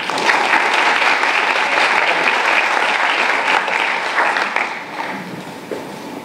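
Sustained, loud audience applause from a crowd welcoming Bill Dedman at an evening talk event, a steady wash of clapping that thins slightly toward the end.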